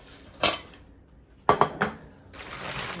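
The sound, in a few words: ceramic plates clinking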